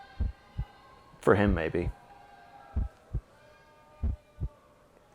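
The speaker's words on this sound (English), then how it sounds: "I can hear your heart beating." A heartbeat effect thumps in steady paired beats, a low double pulse repeating close up, with a brief stretch of someone speaking partway through.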